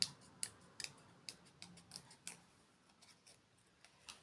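Scissors snip through paper while cutting out shapes, giving quiet, irregular crisp clicks close by with soft rustling between cuts.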